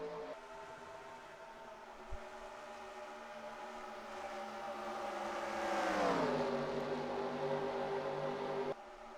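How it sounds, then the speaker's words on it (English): Engine whine rises and sweeps upward as a NASCAR race car accelerates past in a racing video game at Atlanta, peaking then dropping in pitch, with a steady background drone. "We're trying to let you experience more of the ambient sounds of the race."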